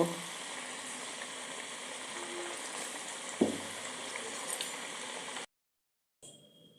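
French fries on their second fry in hot oil give a steady, close sizzling hiss that runs unbroken, with a single metallic clink midway before the sound cuts off.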